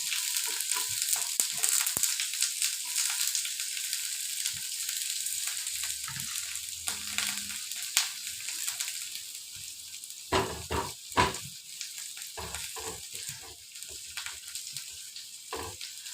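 Onion, green chili and curry leaves sautéing in coconut oil, a continuous close sizzle with bursts of stirring and scraping in the pan, no voices.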